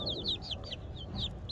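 Young chicks around four to five weeks old, including young roosters, give a run of high, thin chirping peeps in quick succession, close by over a steady low background rumble.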